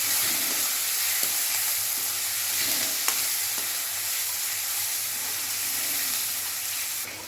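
Ground cumin and fresh coconut paste frying in oil in a pan for jackfruit biryani: a loud, continuous sizzle with a steady hiss and faint stirring scrapes, without talking.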